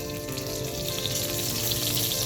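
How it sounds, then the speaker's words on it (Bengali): Fish heads frying in a pan over a wood fire, a dense, even crackling sizzle that holds steady throughout, close and fairly loud, with no talking. "এখন দেখো মাছের মাথা ভেজে নিচ্ছি"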